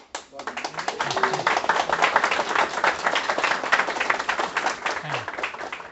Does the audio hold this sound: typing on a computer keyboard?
no